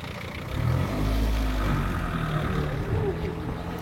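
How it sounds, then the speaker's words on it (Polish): Car driving past on a street, heard by a group practising white-cane navigation, a steady engine rumble that swells and holds for several seconds with low voices and street noise around it. "Jedzie samochód, posłuchajmy co robi"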